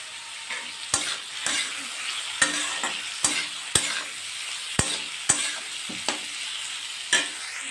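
Rice and drumstick flowers frying in a pan, with a steady sizzle broken by about ten sharp scraping clicks of a spatula stirring at an irregular pace, close and fairly quiet, no talk.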